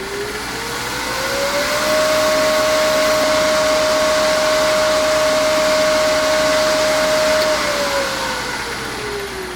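Polishing machine spun up to a higher speed with Axe polishing paste, a loud steady motor whine that rises in pitch, holds for several seconds, then winds back down, close and alone.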